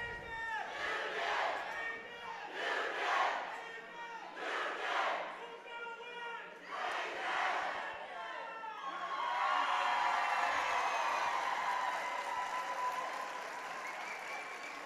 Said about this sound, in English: Crowd is into it tonight.